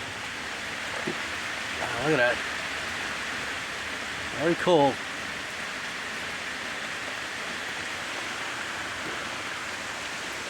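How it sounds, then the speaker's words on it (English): Heavy rain pours during a hurricane storm, a steady broad hiss that fills the clip, while a person briefly speaks twice over the downpour. "I'm glad we are getting some rain now."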